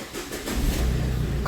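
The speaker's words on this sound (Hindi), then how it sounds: "तो दोस्तों सेल्फ लगा लेते हैं गाड़ी में" Car engine cranked by the self-starter and catching, a short rough mechanical churn building into a steady low running rumble, loud and close, with no talking.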